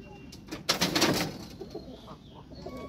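Pigeons at a pigeon farm give a brief burst of soft cooing and fluttering near the middle, then settle into quieter murmurs and faint coos against low background noise.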